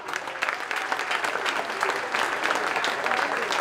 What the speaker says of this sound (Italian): Facciamo un applauso per Marino Spano.